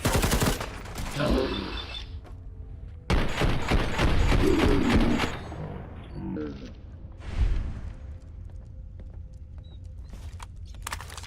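Bursts of gunfire ring out in the video game Fallout 4, loud rapid volleys with sharp cracks, then scattered clatter and mechanical sounds, with brief game voices in between.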